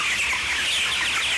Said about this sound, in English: I'm covered in chickens right now.